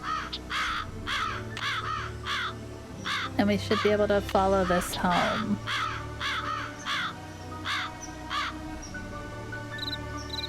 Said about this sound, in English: I hear all the birds.